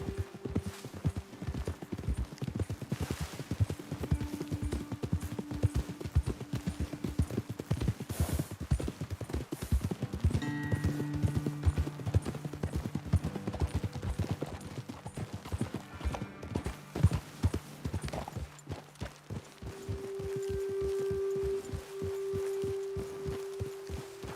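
Horse hooves clip-clop steadily at a walking pace in Red Dead Redemption 2, close and rhythmic, with occasional snorts and a faint ambient background throughout.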